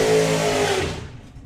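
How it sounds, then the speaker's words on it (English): A two-seater dragster roars close by at a drag-racing meet, its loud engine note briefly high, then fading quickly as it tears away down the strip. "Okay, two-seater dragster."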